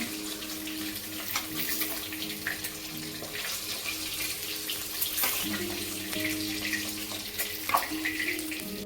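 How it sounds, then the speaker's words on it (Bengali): Eggplant slices sizzling lightly in a little hot oil in a pan, a steady continuous hiss and crackle held close and fairly loud for the whole stretch, with faint clinks of utensils and no talk. "এই বেগুনটাও হালকা একটু তেলে ভেজে নিচ্ছি"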